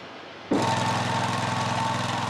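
A CC66 multipurpose slope mower with a carburetor modified for steep slopes and electric power steering starts up suddenly, then runs with a loud, steady, close engine drone and rhythmic mechanical chatter.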